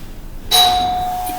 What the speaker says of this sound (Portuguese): desculpa, foi a campainha